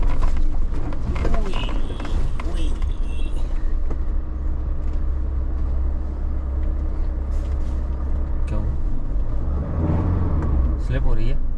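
An off-road vehicle churns along a muddy forest track, its engine droning and revving hard as the wheels slip, loud and continuous with faint voices inside the cabin.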